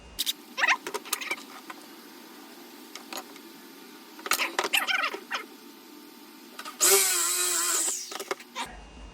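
A power drill with a 3/4 inch bit bores into scrap pallet wood in short bursts of scratchy chattering and grinding, followed by a louder, sustained whining run near the end, close and with no talk.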